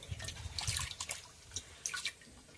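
Banana leaves are washed gently by hand in water, producing soft, quiet splashes and drips in a few small bursts over a couple of seconds, close and without speech.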